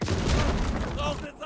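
A grenade blast on a WWII Eastern Front battlefield in Call to Arms: Gates of Hell, a heavy booming burst amid ongoing gunfire, loud and close, with a voice briefly heard in the mix before the noise drops away.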